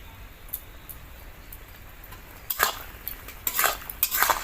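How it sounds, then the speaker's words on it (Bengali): Eggplant pieces seasoned with turmeric and salt are stirred in an uncovered pan, giving a few scattered utensil scrapes and clinks that grow louder and busier toward the end over a faint, steady background hiss. "আবার নেড়ে চেড়ে এরকম ভাজা করবো।"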